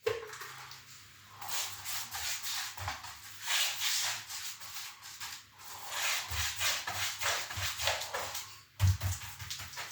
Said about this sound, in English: The brush sound gets lighter as we're feathering off.